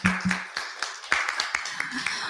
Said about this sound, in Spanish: Un aplauso para nosotros, por favor.